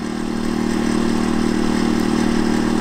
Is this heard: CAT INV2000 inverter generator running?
yes